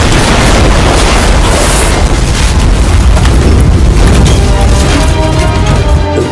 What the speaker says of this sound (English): Seconds later, 3 6-inch shells, possibly from Yamato, smash the bridge.